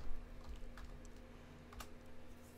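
Quiet keystrokes on a computer keyboard as a folder name is typed, a short irregular run of soft clicks with a faint steady hum underneath.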